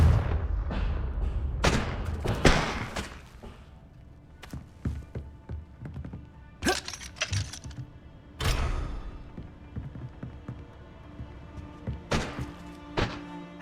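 Confringo blasting spell cast in Hogwarts Legacy, sharp explosive bursts and thuds scattered across a quiet scene, several loud hits with softer clicks and impacts between them, no talking.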